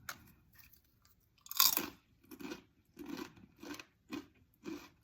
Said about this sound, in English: They definitely feel crunchy.